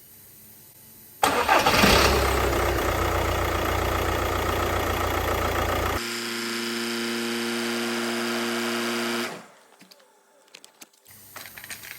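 An Audi A4 B7 with a 2.0 TDI diesel engine cranks and fires, surging loudly before settling into a steady, rattly diesel idle that later drops away abruptly.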